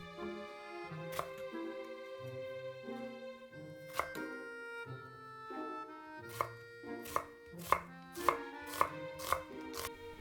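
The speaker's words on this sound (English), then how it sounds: "Cut an onion into chunks." A knife chops an onion into chunks on a board with crisp, irregular taps that quicken into a rapid run of sharp strikes toward the end, over soft background music.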